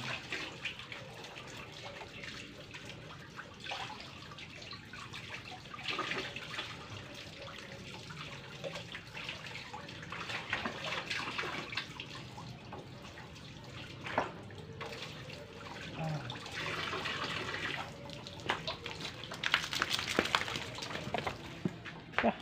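Steady running water from a shower pours continuously at a low, hissing level, with occasional splashes and knocks over its full length and no talking.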